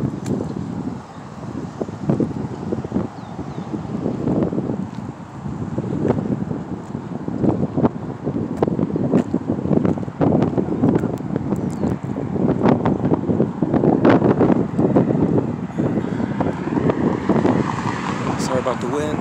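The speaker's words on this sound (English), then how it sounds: "It wasn't windy earlier, I don't know why it's windy now." Gusty wind buffets a handheld microphone outdoors, producing loud, uneven rumbling bursts that rise and fall over about nineteen seconds, with no clear voice over it.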